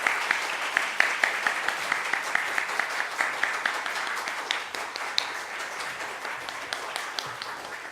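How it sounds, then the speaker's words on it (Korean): A church congregation applauds as the pastor comes forward to preach, a steady, moderately faint round of clapping with distinct sharp claps that gradually thins out. "우리 목사님 나오실 때 큰 박수로 맞아주시기 바랍니다"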